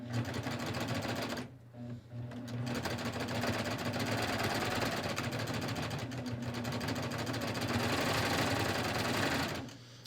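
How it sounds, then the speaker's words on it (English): Serger set for a wide cover hem stitching from a fabric scrap onto a pocket: a loud, steady, close mechanical whir that runs almost the whole time, stopping briefly early on and again at the end. "I set my serger up for a cover hem wide"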